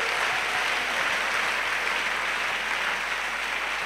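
A church congregation claps in worship as an offering to Jesus Christ, a dense, steady wash of applause filling the room without pause and no voices standing out.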